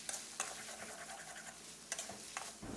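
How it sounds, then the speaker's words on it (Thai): Glass noodles and fresh shrimp stir-fried in a pan, with close, scraping strokes of the utensil over steady sizzling and a few sharper clacks, no talking. "แล้วก็ผัดคลุกเคล้ากันเล็กน้อยนะครับ"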